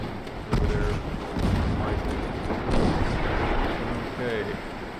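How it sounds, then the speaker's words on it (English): Torpedoes launched from a warship in a naval video game set around the Bismarck: loud, continuous booming rumble with sharp thuds at the start, dense and close. "Torpedoes away."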